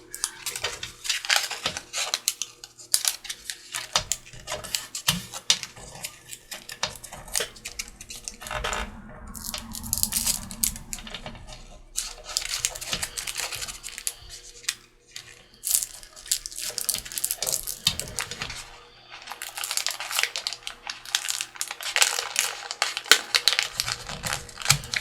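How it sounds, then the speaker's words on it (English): Tracing paper and rice paper being rolled into a scroll by hand: continuous crinkly rustling and crackling, close and quiet, with irregular bursts of crisp paper friction and brief pauses, no talking. "we're going to start our rolling of our scroll"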